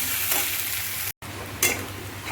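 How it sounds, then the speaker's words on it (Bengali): Potatoes, tomato and egg frying in a pan give a steady, close, broadband sizzle, with two brief louder bursts as the food is moved and a very short dropout partway through. No one speaks. "বেশ ভালো করে ফ্রাই হয়ে গেছে"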